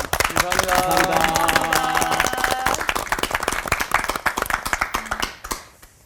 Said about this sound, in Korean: 오늘 또 감사의 박수, 평소 때보다 더 큰 박수 예, 드리고 싶습니다.